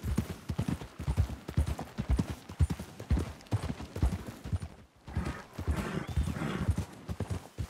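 Horses walk in the video game Red Dead Redemption 2, their hooves clip-clopping in a steady, close rhythm through most of the stretch, with a short gap and then softer hoofbeats and some background rustle.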